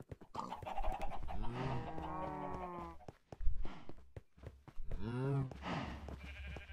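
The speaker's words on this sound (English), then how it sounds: "You can hear the animals now" Farm animals, including sheep, moo and bleat in drawn-out calls in the video game Minecraft, overlapping with a voice talking and bursts of background clatter.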